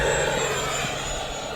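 An RC F-16 model jet with an electric ducted fan passes by, giving a steady, loud whooshing turbine-like roar that fades slightly over the moment, alone with no talking.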